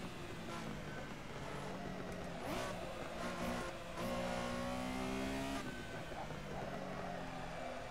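A racing car engine in a racing video game on the Nürburgring GP circuit, droning steadily while driving off the track, with rising and falling revs and a brief tire squeal, loud and continuous.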